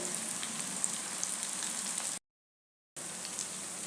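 A leftover-rice vegetable cutlet shallow-fries in oil on a pan over medium heat, giving a soft, steady sizzling hiss. The sizzle breaks off into brief silence partway through, then resumes.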